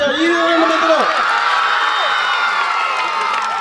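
A crowd at a school annual function at Chakradhar High School claps and cheers with sustained, loud, dense applause and shouts that hold steady throughout.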